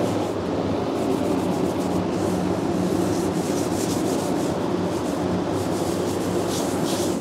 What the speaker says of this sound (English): I'm going to clean the bonnet with some thinner